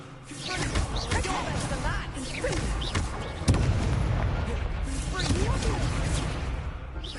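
A Confringo blasting curse in a Harry Potter video game bursts with a loud explosive boom amid dense, rumbling game effects and layered noise, with voices shouting in the mix.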